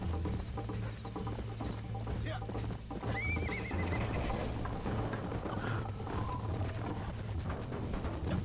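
A horse in the Red Dead Redemption video game whinnies loudly amid steady galloping hoofbeats, layered over game music and ambient noise, with a person talking over it.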